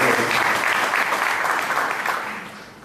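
A church congregation at a Sunday service breaks into loud, dense applause, a crowd of hands clapping steadily and close before thinning out toward the end.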